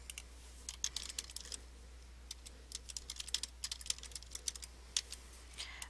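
Soft, quick keystrokes on a computer keyboard in uneven bursts, faint and close over a low steady hum.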